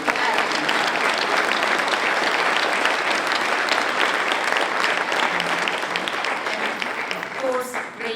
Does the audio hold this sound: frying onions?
no